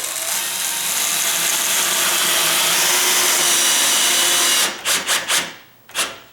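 A power drill driving a screw into a loose door hinge whirs steadily and loudly for several seconds at low speed, then stops and gives a few short bursts at the end.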